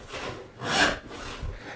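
Hand saw teeth rasping through wood in slow back-and-forth strokes, close and fairly loud, with one stroke clearly stronger than the others and no speech.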